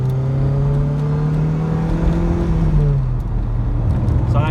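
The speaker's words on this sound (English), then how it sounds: "I think I'm going to have to do an overtake here" Car engine rising in pitch as it accelerates to overtake a van on a country road, a loud, steady drone heard from inside the cabin with rolling road noise underneath.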